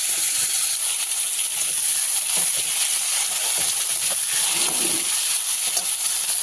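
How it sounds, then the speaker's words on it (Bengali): Steady, loud sizzling hiss of potato and pointed gourd frying in hot oil in a wok with bay leaf, dried chilli and cumin, continuous throughout with faint scattered crackles and no talking. "কড়াইতে ওই তেলেই আমি দিয়ে দেবো তেজপাতা, শুকনো লঙ্কা, জিরে ফোড়ন।"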